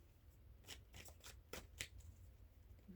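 Tarot cards are being shuffled, giving a quiet series of soft riffling bursts and flicks over a low room hum, faint and close, with no one speaking.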